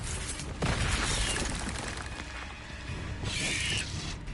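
The Confringo fire-blast spell from Hogwarts Legacy goes off as a loud burst with shattering, crackling debris, followed by a second fiery blast and a rushing whoosh a few seconds later.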